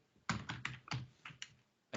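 Keystrokes tapped on a computer keyboard while entering data into a Microsoft Excel spreadsheet, a quick irregular run of about eight close, crisp clicks with short pauses between bursts.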